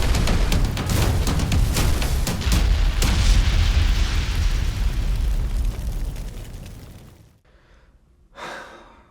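A big explosion booms loud and close, a deep rumbling blast that rolls on for several seconds and slowly fades, followed by a brief softer burst.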